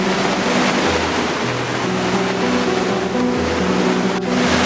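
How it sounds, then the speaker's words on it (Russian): A mountain river in Norway rushes loudly and continuously, a thick, unbroken roar of flowing water with a faint low hum running beneath it. "Горная речка."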